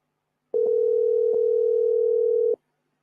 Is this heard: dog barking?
no